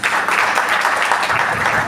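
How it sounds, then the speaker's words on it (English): An audience at a church business summit breaks into applause, many hands clapping in a dense, even roar that holds loud and steady throughout. "A round of applause, please."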